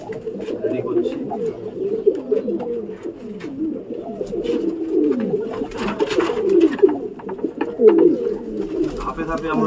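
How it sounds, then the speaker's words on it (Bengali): A flock of ground pigeons being readied for release at a morning loft coos continuously, a dense overlapping murmur of close calls with occasional wing flutters and sharper notes throughout. "এরপরে কিছু মাটি পায়রা ছাড়া হবে"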